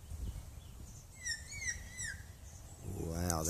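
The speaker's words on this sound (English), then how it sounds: "that's a real hawk cry" A hawk cries outdoors with a few piercing, wavering whistled calls that rise and fall over steady background noise, followed by a voice starting up near the end.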